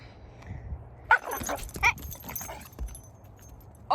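A dog near a horse gives a few sharp barks and yips, spaced irregularly among quieter stretches, fairly close and alone without talk.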